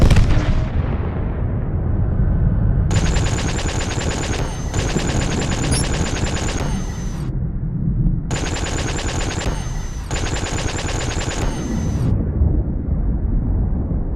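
Spaceship weapons in SpaceBourne firing in two long rapid bursts, a dense mechanical stream of shots over a low rumbling engine bed, separated by a short pause.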